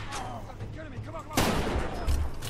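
A sniper rifle fires once in the Far Cry 2 shooter, a sudden loud broadband crack that rings out over low game ambience, with a second sharp burst close behind.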